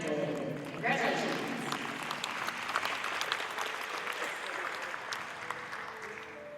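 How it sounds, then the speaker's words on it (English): Sustained crowd applause rings through a dairy cattle show arena for a grand champion Brown Swiss cow, a steady wash of clapping at moderate distance with faint voices mixed underneath. "Let's have a round of applause for our grand champion Brown Swiss, Elon Wagner Handel."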